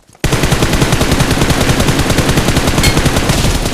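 Rapid automatic gunfire in a battle royale style video game, a loud continuous burst of evenly spaced shots starting abruptly and running to the end, with no talk over it.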